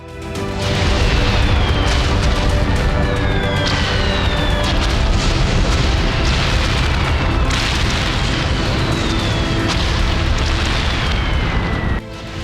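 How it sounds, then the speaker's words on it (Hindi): Missile strike explosions on Crimea, a dense, continuous roar of booming blasts with overlapping rumbles and whistling streaks, loud and sustained throughout without pause before cutting off near the end. "क्रीमिया पर 40 मिसाइलों से प्रहार"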